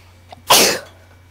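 During a tabletop role-playing session, someone sneezes once: a soft breath, then a single loud, explosive burst that trails off quickly, heard close and alone without speech.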